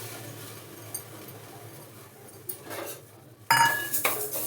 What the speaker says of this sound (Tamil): ஃபஸ்ட்டு நம்ம பருப்பு லைட்டாக வறுத்துக்கலாம்.